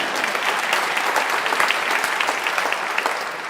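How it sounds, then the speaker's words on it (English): An audience applauds at a city mayor's State of the City address, dense steady clapping from many hands filling the room and holding at a constant level. "You can clap."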